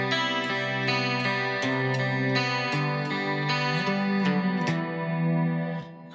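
Gothic guitar arpeggio of picked, ringing notes in a steady rhythmic pattern with sustained overlapping tones, played alone, ending with two bass notes and a short fade.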